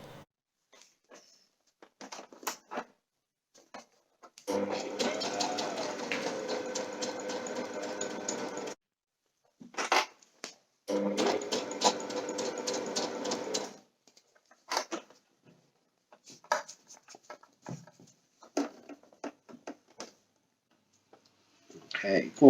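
A sewing machine stitches a homemade synthetic insulation top quilt in two steady runs of about four seconds each, with short pauses and scattered handling noises between them.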